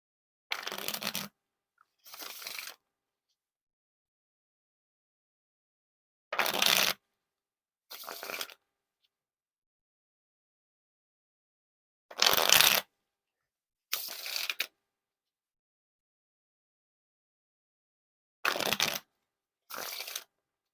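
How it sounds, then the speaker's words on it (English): Paired bursts of riffle shuffling a Bruce Lee deck of playing cards repeat four times, each a quick crisp fluttering of cards followed by a shorter bridge, with silence between rounds. "Now for the riffle shuffle or bridge shuffle."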